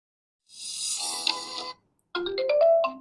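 A ringtone melody plays from the single speaker of a Dcode Cygnal 4 Lite phone, a bright tonal phrase lasting about a second, a brief pause, then a second run of quick, distinct notes, with no talking.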